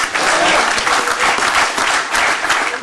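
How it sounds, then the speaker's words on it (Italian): Reyer basketball fans seated in a Venice council chamber break into loud, close applause, a continuous dense clatter of many hands with some crowd noise mixed in throughout. "tra gli applausi dei tifosi della Reyer che assistono alla seduta"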